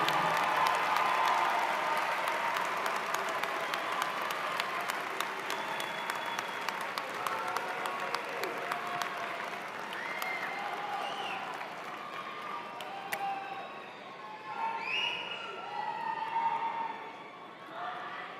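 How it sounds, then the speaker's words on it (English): A large crowd at an outdoor campus graduation ceremony applauds in a long, steady round heard from a distance, faintly fading toward the end with a few voices mixed in. "Let's have a big round of applause for all the families"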